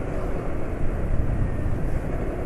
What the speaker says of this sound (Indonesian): Suara mesin halus ya.